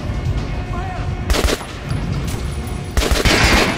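Gunfire from Metro Last Light Redux: two loud, sharp bursts of shots ring out a couple of seconds apart, rising over a steady bed of in-game ambience.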